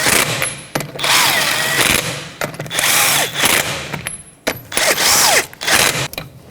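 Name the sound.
power tool tightening wheel lug nuts on a Toyota RAV4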